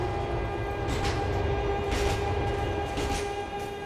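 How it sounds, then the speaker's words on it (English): A train in GTA 4 rumbles past steadily for several seconds, a loud, continuous roar with a faint high-pitched whine on top and no voices. "My only partner just got run over by a train."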